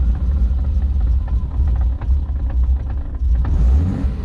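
A BMW E30's engine runs at low throttle, a loud, close, steady rumble with slight uneven surging as it struggles to hold an idle.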